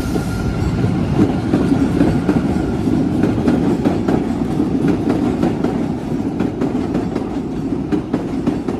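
A train on the line to Revere Beach pulls out of a station with a steady, loud rumble of wheels, faint clickety-clack over the rail joints and continuous mechanical noise, with no talk.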